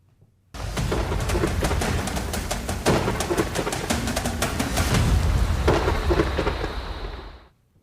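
Heavy rain hisses steadily with sharp crackling bursts and low rumbles of thunder throughout, loud and close, starting abruptly and fading out at the end with no voices.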